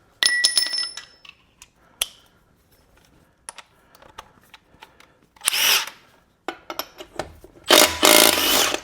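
Milwaukee M12 stubby cordless impact wrench set to maximum torque mode and running in reverse with a socket on, giving short separate bursts of loud rattling hammering near the mic, with clicks and handling noise between them.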